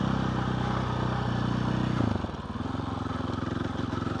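A motorcycle engine holds a steady high rev, then drops to a lower, throbbing idle with a regular pulsing beat, loud and close with no talk.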